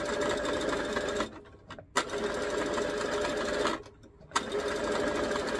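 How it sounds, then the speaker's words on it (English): A sewing machine stitching organza runs in a fast, steady whir close by, stopping briefly twice before starting up again. "I'm going to go ahead and kind of just keep sewing it till I get it all sewn"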